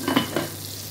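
Dried salted fish crackles and sizzles in a pan of hot oil, a couple of sharp spattering pops up close, then a quieter steady hiss.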